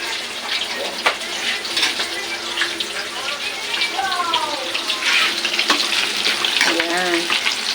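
A little water is poured into a pan of cooking chopsuey, making a steady hissing splash and sizzle up close, with a voice speaking over it.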